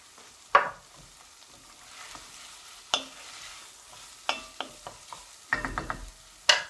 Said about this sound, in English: at this stage, what we're going to do is we're going to add our pepperami.